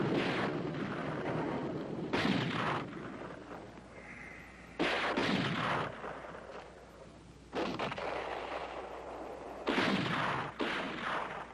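Heavy gunfire on a mountain in a 1970 war western, a series of booming shots with long rumbling tails, about five blasts spaced a couple of seconds apart.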